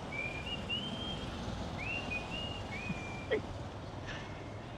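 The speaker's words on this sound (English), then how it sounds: "I don't know if you heard the whistling" A man riding in a passing tuk-tuk on a street in Siem Reap, Cambodia, whistles a Western-movie tune in a few clear, sliding phrases, moderately distant over steady street noise.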